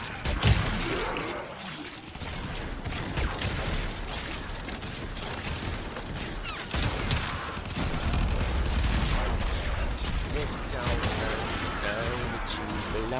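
Gunfire in the game Warframe rattles in dense, continuous bursts mixed with mechanical clatter and crashes, loud and busy throughout while a voice talks over the fighting.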